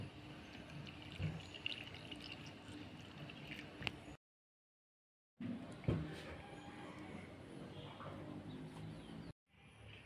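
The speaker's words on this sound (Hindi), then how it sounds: "अभी मैं पानी से धो लूँगी।" Chopped ash gourd pieces are rinsed in water in a home kitchen, giving faint splashing, trickling and dripping that runs steadily, breaks off into a brief silence, then resumes.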